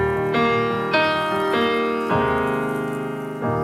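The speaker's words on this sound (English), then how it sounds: "The Royal Grand is the classic sound." Nord Royal Grand 3D piano sound on a stage keyboard, a series of sustained chords struck about every half second, ringing and overlapping, loud and close with no voices.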